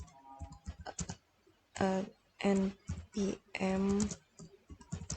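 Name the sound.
typing on computer keyboard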